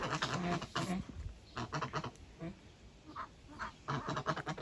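Several geese honk and call in short nasal bursts, close by, with quiet pauses between the calls.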